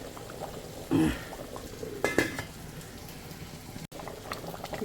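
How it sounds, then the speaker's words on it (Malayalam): A pot of Kaima rice cooking with large green chillies and carrot, a low bubbling simmer with a brief splash and a couple of utensil clinks, fairly quiet and close. "റൈസ് കുക്കാവുന്നുണ്ട് വലിയ പച്ചമുളക് ക്യാരറ്റും ഒക്കെ ഇട്ടാണ് റൈസ് ഉണ്ടാക്കുന്നത്"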